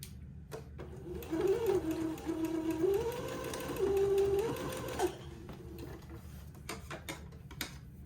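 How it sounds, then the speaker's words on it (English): A sewing machine stitches a side seam on plaid button-on bloomers, its motor whirring in steady bursts with brief pauses between runs, close and clear, with no talk. "I'll sew this side seam"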